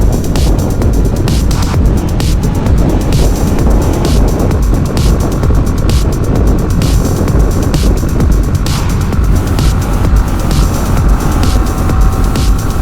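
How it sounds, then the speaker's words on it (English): BMW G 310 GS single-cylinder motorcycle held at full throttle while riding, a loud continuous engine drone buried in heavy wind rush and roar, with no voices. "Come on, little single. I've got this throttle pinned."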